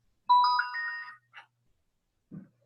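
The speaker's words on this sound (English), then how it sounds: "Hang on, I've got a phone message" A phone message notification chime rings out during an online Zoom meeting: one short, bright tonal ringtone phrase, then a brief blip and a faint soft knock, otherwise quiet.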